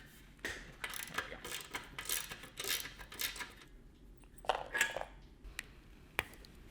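Metal clinks and ratcheting clicks of a muffler being unbolted and pulled off a Tillotson kart engine during a torque-build monster truck kart project, a series of close, sharp taps and scrapes with short pauses between them.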